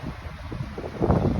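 Wind rushes and buffets in a low, rumbling gust that swells louder toward the end.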